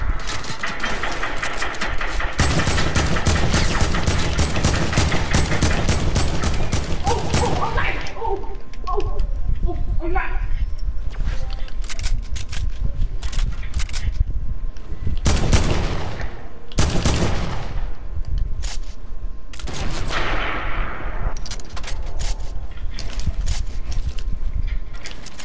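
Automatic AK rifle fire in an online shooter game crackles in repeated dense bursts over a steady engine-like background, loud and near, with players talking in between.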